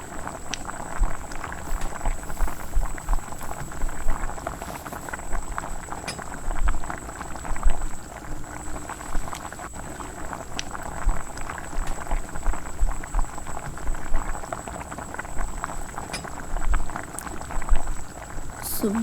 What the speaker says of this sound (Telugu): చికెన్ ముక్కలను ఆయిల్లో బాగా కలుపుతూ కొద్దిసేపు ఫ్రై చేసుకోవాలి.